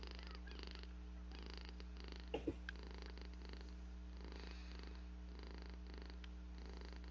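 A 14-year-old cat purrs in a low, steady, continuous rumble close by, with a couple of brief soft clicks partway through and no talking.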